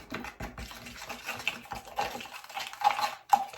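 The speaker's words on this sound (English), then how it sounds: "Stirring it in." A spoon stirs lavender essential oil into a homemade mixture in a bowl, giving soft irregular scraping and clicking strokes, close and quiet, with no one speaking.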